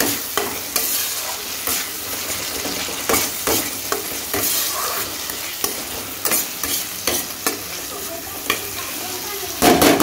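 Spice paste fries in oil in a pan as fried rice is cooked, a steady sizzle broken by repeated scraping clanks of a spoon stirring the masala, loud and close with no talking.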